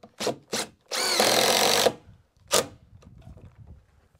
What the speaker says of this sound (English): I've got these 4-inch long screws. I think that'll work. We'll just run a few.